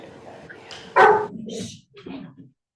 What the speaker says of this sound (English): The dog votes also.